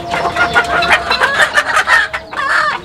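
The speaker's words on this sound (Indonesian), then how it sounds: "Ini ayam yang seluruh tubuhnya hitam." An all-black native Indonesian chicken clucks repeatedly in quick, close, loud bursts, a busy run of fowl calls with no talking.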